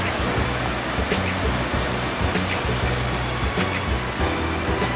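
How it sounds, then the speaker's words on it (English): Water released from Big Tujunga Dam rushes down the Big Tujunga Wash, heard from an overpass as a loud, continuous roaring wash of turbulent flow with low rumble, steady throughout. "This water's all being released from the dam that's way up here."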